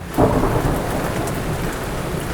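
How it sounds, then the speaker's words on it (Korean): Heavy rain pours steadily with a rumble of thunder in a dramatic film scene where blood-red rain begins to fall, a dense continuous wash with a low swell near the start. "타노스가 위를 쳐다보자 피의 비가 내리기 시작하는데"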